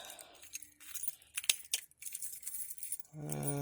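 Truck keys jangle and clink in irregular bursts close by in a cluttered workshop, with a few sharp metallic chinks, followed by a low engine-like hum at the end.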